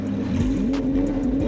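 A Lamborghini Huracán LP610-4 switched into sport mode lets out a loud, close engine rev, its pitch rising and dipping over a second or so with no voices.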